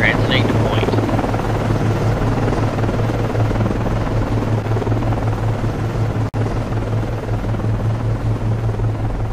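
An SH-60 helicopter in the naval submarine game Cold Waters flies at night, its steady rotor drone loud and continuous throughout, with a brief dropout partway through and some faint higher chirps near the start.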